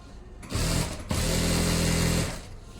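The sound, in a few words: sewing machine stitching with pearl foot attached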